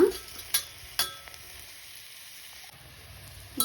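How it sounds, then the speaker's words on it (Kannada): Sambar ingredients dry-roast in a pan with no oil, a faint low hiss broken by a few sharp clinks of the stirring spoon against the metal. "ಇವಾಗ ಇದನ್ನ ಹಾಗೆ ಎಣ್ಣೆ ಏನು ಹಾಕಲಿಲ್ಲ ಏನು ಮಾಡಲಿಲ್ಲ ಇರೋದ್ರಲ್ಲೇ ನೀಟಾಗಿ ರೋಸ್ಟ್ ಮಾಡ್ತಾ"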